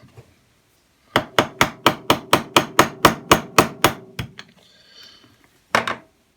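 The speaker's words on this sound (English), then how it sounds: "The next thing to do is to knock off the head of the rivet." A small hammer strikes a rivet head clamped in a vise while a vintage Dinky toy axle is being replaced: about thirteen crisp, evenly spaced metallic blows in quick succession, a short pause, then one final knock.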